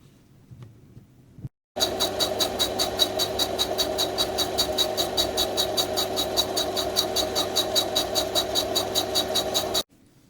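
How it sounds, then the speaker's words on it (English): A lathe spinning a 3D printed part for a 40mm gel blaster: after a brief quiet start, a steady rhythmic throbbing hum with fast regular pulses runs for about eight seconds, then stops abruptly. "I ran that up on my lathe just for a bit, took out some of the concentricity issues"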